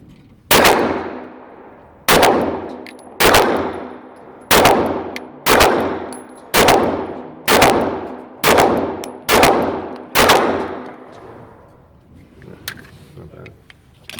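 CZ P-10C pistol fitted with an HB Industries Theta kit firing at steel targets: nine loud, sharp shots at a steady pace about a second apart, each with a ringing decay, followed by a quieter tail.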